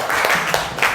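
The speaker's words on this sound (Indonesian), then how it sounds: "Beri tepuk tangan untuk Cia." Steady applause from a class of students, dense and fairly loud throughout, with a few sharper claps standing out.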